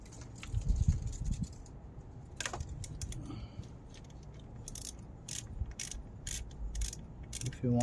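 A ratchet loosens 10mm bolts on an Acura MDX engine during a spark plug change, giving quick clicking runs and metallic mechanism sounds at close range that come in short bursts, with no one talking.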